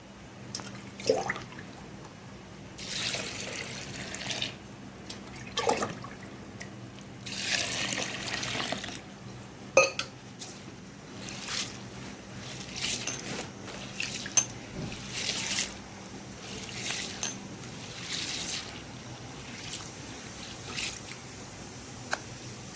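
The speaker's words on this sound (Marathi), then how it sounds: "आता आपण हे तीन चार पाण्यानं धुवून घेऊ" Water trickles and sloshes in short bursts as sorghum grain is swirled and rinsed, with drips and pours coming and going at close range.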